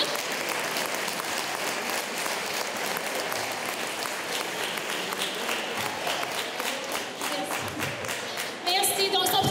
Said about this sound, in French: Oui, on les applaudit, certainement.